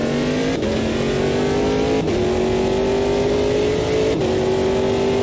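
Ginetta P1 race car engine in RaceRoom, droning loudly and steadily with three quick upshifts, each briefly dropping the pitch before it climbs again under acceleration, with no talk over it.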